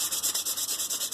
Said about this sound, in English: Right now I'm sanding with a 320 grit.